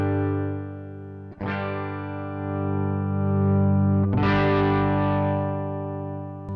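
Electric guitar through a Mosky Classic drive pedal set with low drive and the level raised for a clean tone, two sustained ringing chords struck a few seconds apart, close and alone with no talking.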